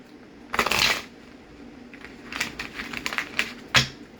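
Oracle cards being shuffled in a few quick riffling bursts, close and fairly quiet, with short pauses between them and no talking.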